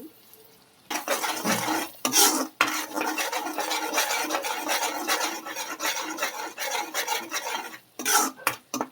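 Spice and ginger paste stirred in oil in a pan for a preserved bommidi fish pickle, with repeated scraping and rubbing of a spoon against the pan over a faint sizzle, close up, pausing briefly a few times.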